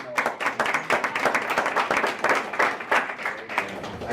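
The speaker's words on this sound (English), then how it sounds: "So, and now golf clap." An audience at a business school talk gives a deliberate golf clap, distinct individual claps in a loose, uneven rhythm, fairly close and moderately loud, with no talking over it.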